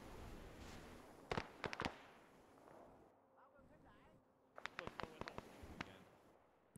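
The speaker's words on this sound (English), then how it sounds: "They're shooting us hard." Gunfire in the ARMA 3 military video game: distant, faint sharp shots arrive in short clustered bursts, separated by quieter stretches of low rumble.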